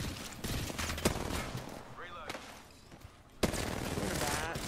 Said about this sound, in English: Missed all the R9 shots, but I hit all the other ones